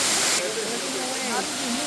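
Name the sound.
waterfall in Bali, Indonesia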